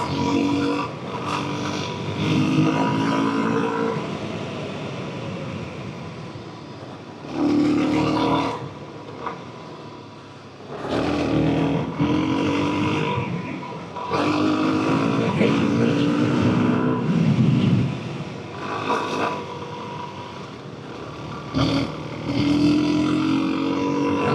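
A Suzuki DRZ400S motorcycle rides on gravel in gravel traction-control mode, its single-cylinder engine rising and falling in repeated bursts of throttle, loud and close with wind buffeting the microphone between revs.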